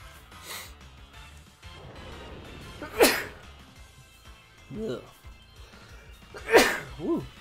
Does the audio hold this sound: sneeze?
yes